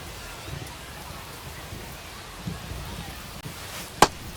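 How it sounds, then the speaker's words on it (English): Steady rain hiss over a ballpark in the baseball video game MLB The Show, running as a constant wash through the clip with a sharp knock near the end. "the rain's still a factor here"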